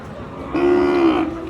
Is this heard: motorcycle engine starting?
no